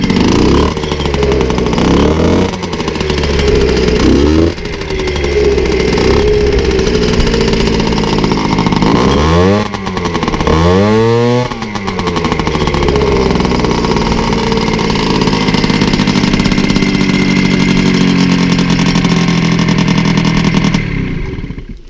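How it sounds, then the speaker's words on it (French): A 1990 MBK 51 CF replica two-stroke moped engine runs close by, a loud buzzing idle broken by several sharp throttle blips that rev up and fall back, with no talk over it. "c'est juste pour que vous entendiez ce moteur chanter"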